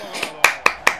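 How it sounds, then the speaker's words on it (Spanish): Three crisp hand claps close to a microphone during a FIFA 16 tournament stream, spaced evenly after a faint softer clap, with no talking over them. "Si queréis aplaudirle ahí al micro."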